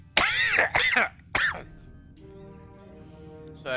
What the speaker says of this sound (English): I'm sorry, it's this damn cough is getting worse.